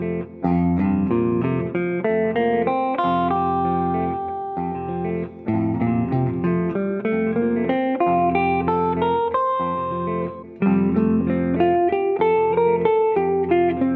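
An electric guitar runs up and down the first five degrees of a major scale, melodic single notes over a steady sustained backing, continuous and fairly loud for about fourteen seconds with no talking.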